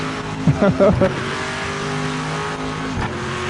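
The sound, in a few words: Bathurst Mosler N-GT race car engine, video game Project Motor Racing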